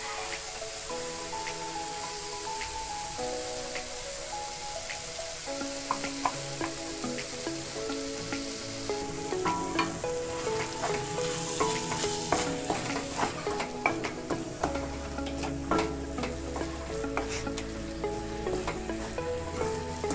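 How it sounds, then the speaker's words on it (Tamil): Ground coconut being stirred into a tomato and onion curry for jackfruit seed curry, with repeated spoon scrapes and taps against the pan over a steady sizzle and faint background music. "நல்லா மிக்ஸ் பண்ணிக்கலாம்"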